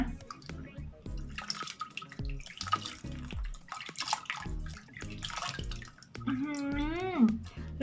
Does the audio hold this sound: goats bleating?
no